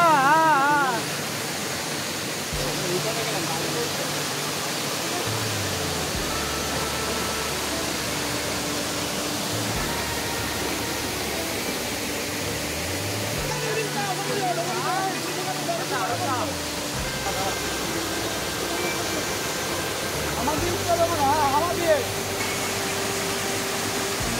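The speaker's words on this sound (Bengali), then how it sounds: "ওয়াটারফলের এখানে খালি কাশফুলগুলোকে দেখুন, আর কী হারে জলটা বয়ে যাচ্ছে খালি দেখুন।" A waterfall on Ajodhya hill in Purulia rushes in a continuous broadband roar throughout, with a voice faintly audible over the water.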